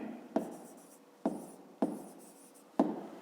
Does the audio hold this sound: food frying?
no